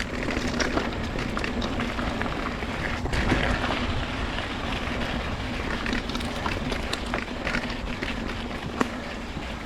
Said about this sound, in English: You can really start to feel the bike rolling over stuff.